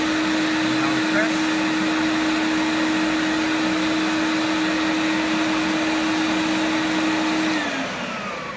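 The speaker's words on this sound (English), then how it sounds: "when you press the trigger to release some solution, it will spin for you" A Bissell Big Green Machine carpet cleaner runs with its brush spinning, giving a steady loud motorized whine and hum close by that holds evenly, then winds down at the very end.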